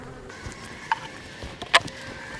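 Honeybees hum steadily in an opened beehive during winter preparation, a faint, continuous buzz with a couple of brief sharp clicks and knocks from the hive frames.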